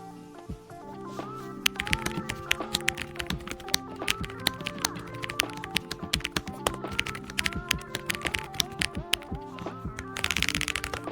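Fast, steady typing on a computer keyboard with an aluminum roller, crisp close-up key clicks in a busy rhythm, with a brief pause near the start and a burst at the end, no talk.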